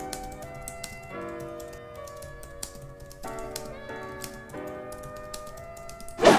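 Fingers type on the QWERTY keyboard of a laptop with a 360-degree folding screen, producing quick, light clicking keystrokes over soft background music.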